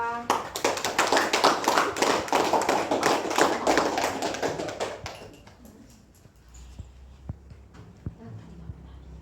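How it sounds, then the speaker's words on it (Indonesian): A classroom of students gives a round of applause for a group. Brisk, dense clapping lasts about five seconds and then stops abruptly, followed by a few scattered taps and thumps in a quiet room. "Sekarang tepuk tangan untuk kelompok 2."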